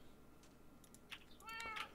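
A cat meows in a video game during a fishing session, as a short, quiet, high-pitched mew near the end over faint background hum, with no talking.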